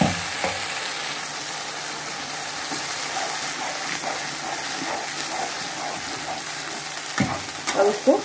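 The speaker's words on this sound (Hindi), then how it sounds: "उसको तेल छोड़ते तक का अच्छे से भूनेंगे।" Onion, ginger, green chili and mustard paste fries in hot oil for a fish curry, giving a steady close sizzle with occasional stirring scrapes and a few louder clatters near the end.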